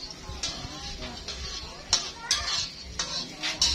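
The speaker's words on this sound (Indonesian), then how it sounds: "Ini saya sambil goreng cucur ya" Cucur cakes frying in a pan at a home food stall, with clinks of utensils and pans, faint sizzle, and scraping in an irregular rhythm close by, while people talk nearby.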